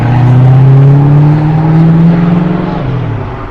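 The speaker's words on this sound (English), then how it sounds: "Car in need of a muffler." A loud car with a missing or failing muffler revs hard near a bridge into Virginia in Washington, DC, its engine roaring steadily and close for several seconds before easing off slightly.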